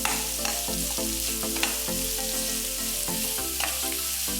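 Carrot frying in a pan for shavige upkari, a steady close sizzle with a low hum beneath and several sharp scrapes and clinks of a spoon stirring against the pan.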